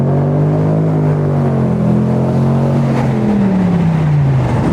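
A Lexus SC 430 with its 4.3-litre V8 cruises at about 50 mph through a tunnel, its engine and exhaust droning steadily. The tone rises gradually and then falls away as the revs ease, with the enclosed space booming around it.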